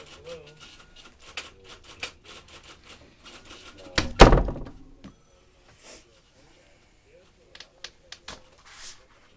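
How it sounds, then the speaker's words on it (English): A door swings shut with a single solid thunk in the middle, set among soft shuffling footsteps and movement in a quiet room, with people talking before and after. "Come on in, shut the door."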